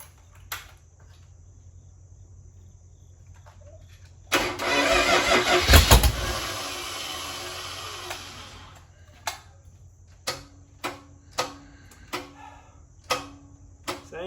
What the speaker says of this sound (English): so first time engine start here